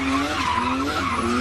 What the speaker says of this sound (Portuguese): Será que o pneu dele é careca, por isso que sai assim de lado?